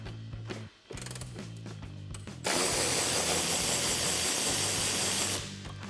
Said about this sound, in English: We can use our 13mm socket to take off the one on the side.